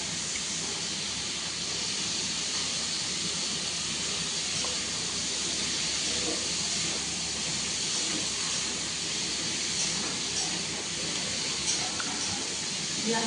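Chopped ridge gourd for a curry goes into a hot pan and sizzles with a steady, dense hiss that stays loud and even throughout, with no break or pause.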